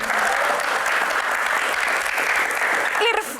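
Audience applause fills a quiz-style Q&A session, a steady dense wash of clapping lasting the whole moment, with a voice briefly rising near the end.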